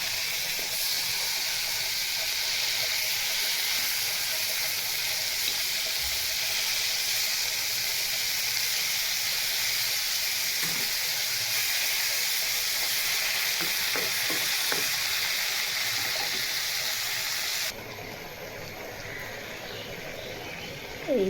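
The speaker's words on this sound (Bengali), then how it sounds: "চিংড়ি মাছটা উল্টিয়ে দিচ্ছি এই" Prawns fry in a pan as they are flipped, giving a continuous loud hissing sizzle with occasional faint clicks from the utensil. The sizzle drops noticeably near the end.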